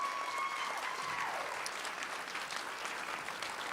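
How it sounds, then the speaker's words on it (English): A TEDxYouth at Buffalo audience applauds, a dense, continuous roar of clapping that carries on evenly, with a faint tone fading out early. "Let's give Christina a round of applause."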